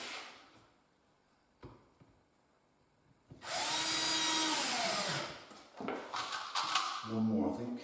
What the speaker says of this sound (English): having a drill like this, you can feel it much, much better.